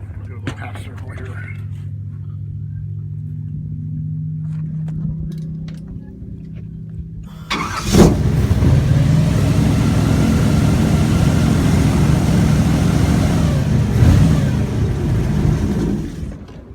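An airboat idles with a low engine drone while a voice murmurs, then the engine revs up sharply into a loud, sustained roar of engine and propeller as the boat turns on Florida water.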